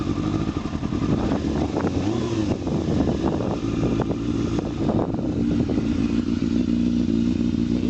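A 2001 Yamaha YZF600R sport bike idles steadily up close, its engine a loud, continuous rumble with mild clatter and small swells in revs throughout.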